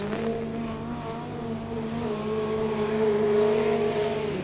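Speedcar with a Fontana-powered Alice chassis racing at night at Archerfield Speedway, a loud, steady engine drone holding a high pitch with slight rises and falls throughout, close by and without talk.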